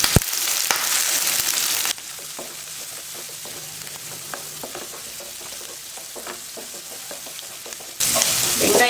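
Onions, curry leaves and green chillies sauté in a pan for a vegetable egg podimas, giving a steady sizzle with stirring scrapes that starts and ends with louder bursts of frying noise.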